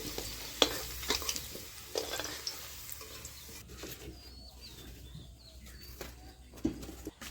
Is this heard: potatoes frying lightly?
yes